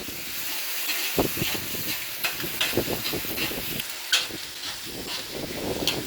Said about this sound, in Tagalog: At simulan na natin mga mare ang ating pagkisa ng bawang at sibuyas.